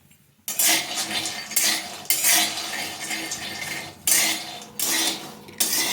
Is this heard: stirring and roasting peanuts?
yes